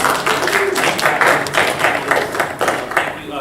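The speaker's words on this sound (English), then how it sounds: "let's give a round of applause for everybody" A small audience at a panel discussion in Fort Lauderdale applauds, brisk close clapping with distinct slaps coming in a steady uneven pattern throughout.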